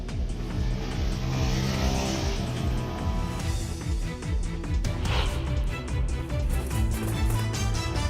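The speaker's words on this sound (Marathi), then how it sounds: "माळशेज घाटात बाईक रायडरची जीवघेणी स्टंटबाजी" A motorbike rider performing stunts on the Malshej Ghat mountain road revs hard and repeatedly, with loud engine surges, passing roars and tire noise, all close and continuous.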